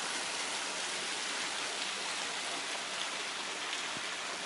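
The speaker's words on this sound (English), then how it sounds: "Waterfall." A waterfall in Kentucky's Red River Gorge produces a steady, hissing wash of falling water, even and unbroken, heard at moderate distance with no voices.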